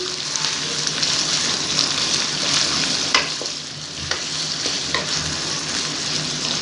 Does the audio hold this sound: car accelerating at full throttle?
no